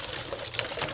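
A garden hose sprays water over a sugar syrup mixer in a continuous close gushing wash, with small splatter changes as the stream hits the surfaces.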